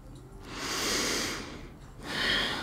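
Two deep, audible breaths during a beginner Pilates workout, a long airy inhale-exhale followed by a shorter one, close and clear with no talking.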